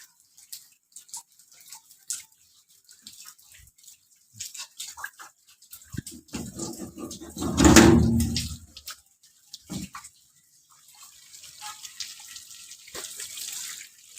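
Rainwater leaking through the roof splashes and pours steadily indoors, swelling to a loud gush in the middle before settling back to scattered drips and trickles.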